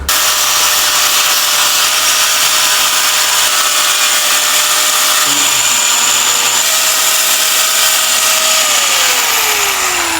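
Power grinder cutting into a motorcycle headlight cowling, a loud continuous high-pitched whine that holds steady for several seconds before its pitch slowly drops toward the end, close and without talk.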